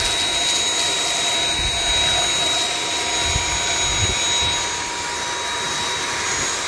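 Vacuum cleaner fitted with a small brush attachment, run over the branches of a young flame tree or blue jacaranda bonsai, a steady loud whine and rush that holds through the whole stretch with faint thumps underneath.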